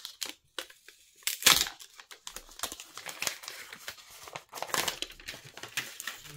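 A paper cover being peeled and torn off an HMD Pulse Pro phone box, a run of close crinkling, rustling and tearing crackles in irregular bursts with one louder rip early on, with no talking.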